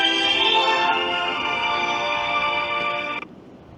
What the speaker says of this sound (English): Dawn's ringing me now